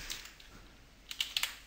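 Keys tapped on a computer keyboard during Silverlight control development, a handful of faint scattered strokes, then a quick cluster of sharper taps near the end over low background hiss.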